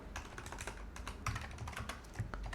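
Quiet, rapid typing on a computer keyboard during SQL query entry, a dense run of soft clicky keystrokes with a few slightly harder taps, close and faint with no talk.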